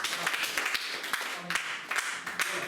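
Church congregation clapping together in praise during a Sunday service, a dense burst of scattered hand claps that carries on steadily and fairly loud throughout.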